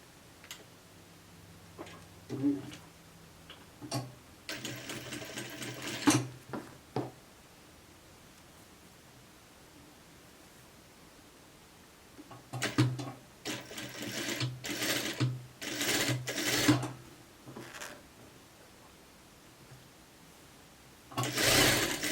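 Bursts of home sewing machine stitching on a collar, a couple of seconds each with quiet gaps between, close and moderately loud with no talking.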